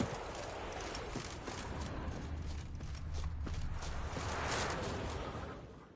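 Geralt's horse Roach in The Witcher 3 moves with soft, rhythmic hoof clip-clops over a faint ambient bed, quiet and somewhat distant, growing slightly louder toward the end.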